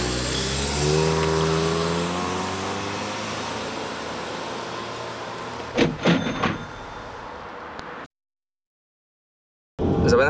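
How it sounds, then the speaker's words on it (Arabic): A 2013 Renault Fluence accelerates on a test drive. A steady engine and road roar builds, a few sharp bursts come near the end, then there is a short silence before the sound comes back. "منشوف لما نبلش ندعس بنزين مزبوط بقلب السيارة"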